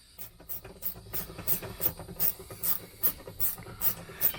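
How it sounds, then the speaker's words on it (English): A ratchet or bolt being worked repeatedly during removal of the carburetor cover from a Yamaha Waverunner engine, giving about a dozen close, evenly spaced rasping clicks in a steady rhythm, with no talking. "We'll pull that carburetor cover off."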